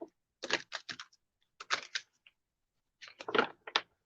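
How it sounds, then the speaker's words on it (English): Large glossy Witch's Tarot cards being shuffled, close and crisp, in three quick bursts of riffling flutter separated by short pauses. "I love these cards because they're super glossy and super shiny. But shuffling, this deck is so large."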